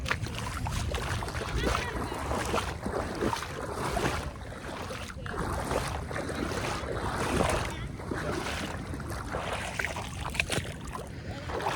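Seawater surging in through a rocky channel on a Seychelles coast, a sustained rushing wash with surges and splashes over nearly twelve seconds, close by, with intermittent talking on top.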